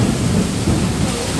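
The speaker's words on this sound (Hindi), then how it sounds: "यहाँ पे कितना तेज बारिश हो रही है अभी" Heavy rain with thunder, a loud steady downpour with deep low rumbling throughout.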